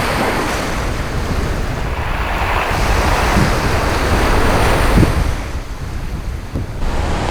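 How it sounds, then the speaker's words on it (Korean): Strong typhoon-driven waves roll onto the black pebble shore of Alljakji beach in Jeju, a loud continuous roar of surf and wind with surges and rattling breaks. "알작지 해안에는 거센 파도가 밀려오긴 했지만 이내 잘게 부서져 내린다"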